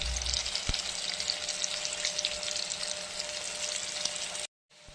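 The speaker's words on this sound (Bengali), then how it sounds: "এই দেখুন বন্ধুরা, আলু ভেজে নিচ্ছি।" Potatoes frying in a pan of hot oil, a steady broad hiss of sizzling that holds evenly close by, then cuts off abruptly just before the end.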